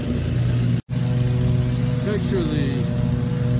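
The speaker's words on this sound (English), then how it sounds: "you can see the lawnmower guys around up here too" Lawn mowers in South Boston, Massachusetts keep up a steady, droning engine hum beneath a voice, running continuously at moderate loudness.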